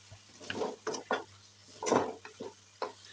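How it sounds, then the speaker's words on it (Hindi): Sauces, including chili sauce, being stirred into vegetables cooking in a pan, with a few scraping and mixing strokes over a soft sizzle, close and fairly quiet. "ये सारी चीज़ें ऐड करके अब हमने अच्छी तरह से मिक्स करना है।"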